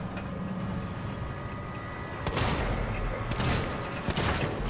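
Gunfire rings out in the video game Alien Isolation, a low steady rumble of game ambience giving way to several loud bursts of shots in the second half, with no talk.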